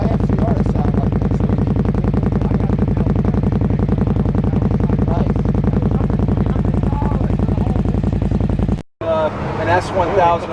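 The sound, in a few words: motorcycle engine revving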